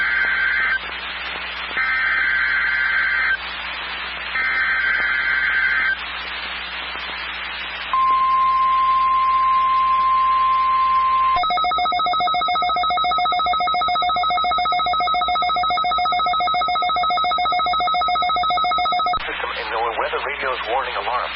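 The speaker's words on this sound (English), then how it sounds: "During potentially hazardous weather situations, the National Weather Service transmits a signal that automatically activates specially built receivers to warn of the impending hazard." A National Weather Service warning alarm test tone plays as a loud, steady electronic signal, shifting between pitched tones and then holding a long continuous alarm tone for several seconds before cutting back to noisy broadcast audio.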